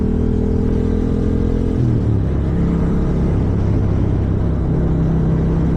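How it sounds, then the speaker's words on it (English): Steady engine drone of a Yamaha R7 motorcycle on the move, with a high mechanical whine from the chain running beneath it, pitch shifting partway through. "I do have a bit of an amplified whine coming from the chain area."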